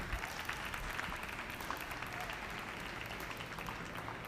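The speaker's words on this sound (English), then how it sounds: "Let's give a big round of applause one last time for all our exhibitors here today." An audience claps for dairy cattle showmanship exhibitors at a 4-H/FFA show: a steady, even wash of applause from a crowd, moderately loud and sustained throughout with no talk.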